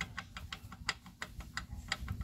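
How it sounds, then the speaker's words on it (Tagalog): Faint, rapid metallic ticking in a steady rhythm from a knocking, misfiring Hyundai Getz engine, over a low rumbling hum. "Tapos pinaka maingay ang makina, agatak."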